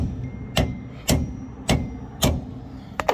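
Four sharp metallic hammer strikes on a socket over a stripped lug nut, at a steady pace, close up, followed by a couple of quicker lighter taps at the end.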